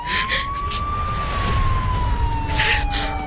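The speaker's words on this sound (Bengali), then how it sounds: "পুলিশের গাড়ির আওয়াজ না?" A police car siren wails nearby, one long rising and falling tone sweeping over about three seconds, with brief bursts of other noise and background rumble beneath it.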